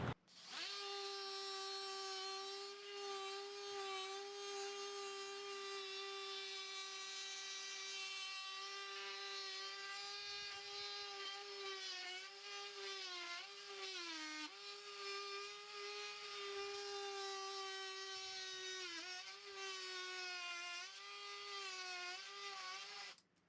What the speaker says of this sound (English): So oscillating saws work great when you're installing flooring. You need to trim around the edge.